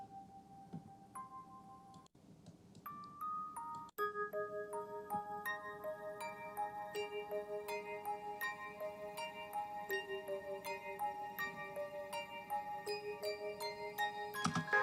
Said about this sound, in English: music box sound from the Kontakt Factory library running through Valhalla Supermassive